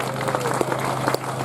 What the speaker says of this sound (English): Will you all give yourself an applause for coming?